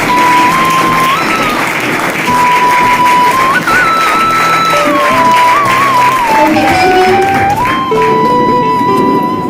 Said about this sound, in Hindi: आप स्टैंडिंग पे जोरदार ताली से कंपनी का सम्मान करेंगे